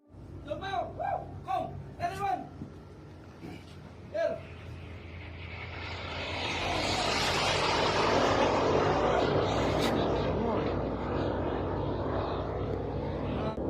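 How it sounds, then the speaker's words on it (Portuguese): Voices talk at first, then Tomahawk missiles flying overhead, heard from aboard a merchant ship in the Middle East, swell into a loud, broad rushing roar that sustains to the end. "um navio mercante no Oriente Médio que está gravando mísseis Tomahawk voando acima, em direção aos seus alvos no Irã"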